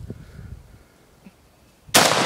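A single AK-47 rifle shot rings out loud and close near the end, after a quiet stretch of faint background murmur.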